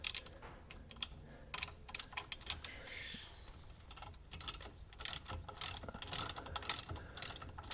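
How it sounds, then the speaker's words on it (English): Ratchet tightening a bolt on a Mazda 3 passenger-side suspension during ball joint, strut and CV axle work, a fast run of close, quiet clicking pawl bursts with brief pauses in between. "I'm not going to tighten it all the way yet. Just going to run it into snug, just like that."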